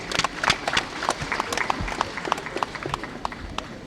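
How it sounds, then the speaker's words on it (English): Crowd applause at a political party youth conference in Nigeria, many people clapping in a dense, uneven patter of sharp claps, moderately loud and sustained across the hall. "Please, a round of applause for the President."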